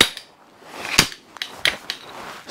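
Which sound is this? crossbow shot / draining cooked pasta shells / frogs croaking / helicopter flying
crossbow shot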